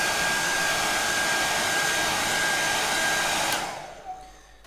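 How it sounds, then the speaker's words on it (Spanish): Hair dryer blowing steadily to dry a layer of paint on a landscape painting, a loud continuous whoosh that runs alone for several seconds before switching off and winding down. "aquí tenemos el gran aliado de la impaciencia, que es un secador de pelo"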